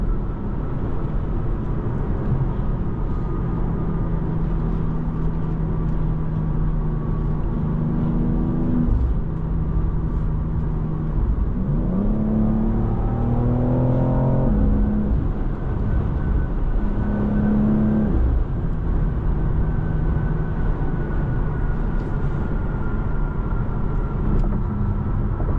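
A 2023 BMW X4 M driving at speed, its engine droning steadily inside the cabin with rising and falling revs through gear changes; the distinct exhaust pops are not clearly picked out.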